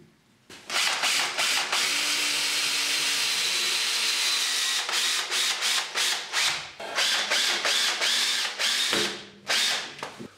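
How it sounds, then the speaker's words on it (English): A power drill drives 4-inch screws through wooden brackets into a wall, a loud continuous whirring in repeated bursts separated by brief pauses, with ratcheting clicks as each screw seats. "I'm now going to fix these to the wall using some 4-inch screws."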